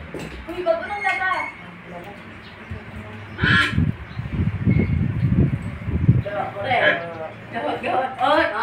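Ducks at a duck race quack in several loud, raspy bursts, mixed with people chatting and cheering nearby.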